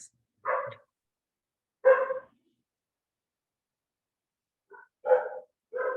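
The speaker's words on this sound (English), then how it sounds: "Which dog is that barking outside your place?" A dog barking outside, heard as four short, separate barks spaced irregularly with quiet gaps between, moderately distant and alone without talk.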